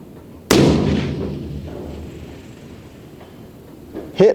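A single sharp rifle shot fired at a long-range steel target outdoors, loud and close, its boom rolling off over a few seconds before a brief second thump near the end.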